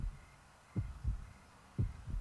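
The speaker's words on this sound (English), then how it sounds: "Is that your heartbeat?" Heartbeat in the horror video game Yomawari: Night Alone: soft, low thumps in paired beats at a slow, regular pace, faint and alone.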